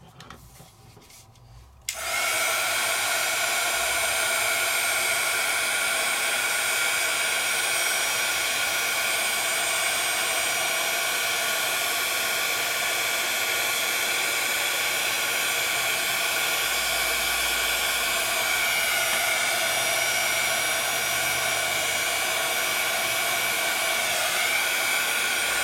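A hair dryer blows steadily and loudly at close range over a craft piece dusted with Cosmic Shimmer Pixie Sparkle Powder, starting abruptly after a quiet moment and running without a break.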